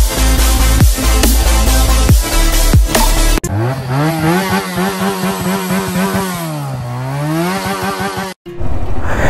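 A motorcycle engine is loud and close. Sharp revving bursts give way to a sustained drone whose pitch sags and rises as the bike passes, then the engine cuts off briefly before picking up again.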